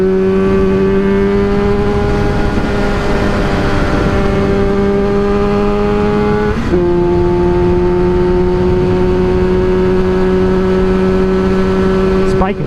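A two-stroke motorcycle is ridden fast with a loud, close, droning engine note and rushing wind. The pitch holds steady, with a brief shift in tone partway through.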